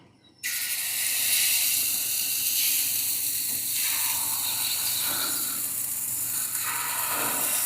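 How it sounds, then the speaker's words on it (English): Pancakes cooking on a hot, oiled Ninja FlexFlame griddle, a steady bright sizzle and hiss that starts suddenly and holds evenly, with a few brief softer shifts in texture. "let's put some pancakes on first"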